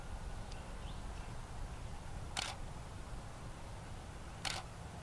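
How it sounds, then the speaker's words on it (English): Camera shutter firing at a fast shutter speed, two crisp, sharp clicks spaced about two seconds apart against a quiet room hiss. "If I take a picture with a fast shutter speed at the same, doing the same thing, it actually captures"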